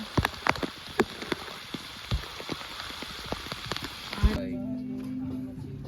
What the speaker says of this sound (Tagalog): Malakas na ng ulan.